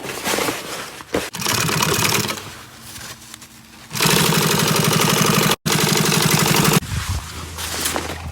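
A sewing machine stitches boat bimini fabric for a pontoon boat in long, loud runs of rapid mechanical whirring, stopping briefly between passes and then starting up again close by.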